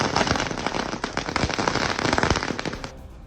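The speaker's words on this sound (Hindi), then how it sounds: "आतिशबाजी जोरदार" Dense, rapid crackling bursts of firecrackers and fireworks set off at a celebration, loud and continuous with sharp overlapping pops, dropping away abruptly near the end.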